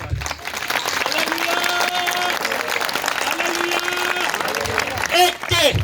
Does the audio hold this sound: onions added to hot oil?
no